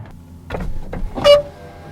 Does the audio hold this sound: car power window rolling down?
yes